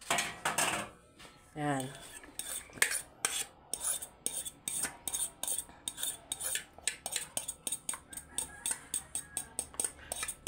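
Onion, garlic and celery being stirred together in a metal pan, with a utensil scraping and clinking against it in a quick, uneven rhythm, close and clear; a voice briefly speaks near the start.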